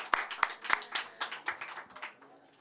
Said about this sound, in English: Many thanks and applause for Krupti.